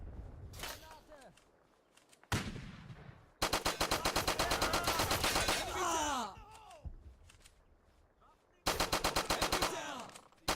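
Bursts of rapid machine-gun fire and scattered shots crack out in the video game Easy Red, loud and close, separated by short lulls in which voices shout over the battle.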